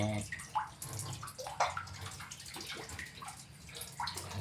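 Water poured into a tank holding tadpoles becoming froglets, a close splashing and gurgling flow with irregular bursts, and a voice speaking faintly at times.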